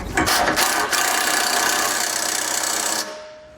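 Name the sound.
impact wrench with 16mm socket snugging bolts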